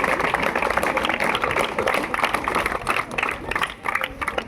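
An audience at a library week event claps loudly and steadily for several seconds, with crowd murmur mixed into the applause.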